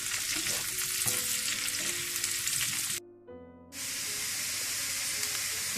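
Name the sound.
potatoes frying on high heat until golden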